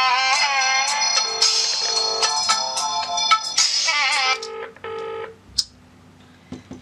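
A mobile phone call on speakerphone gives out a run of bright electronic dial and ring tones in quick bursts, loud and close, ending in a short isolated beep.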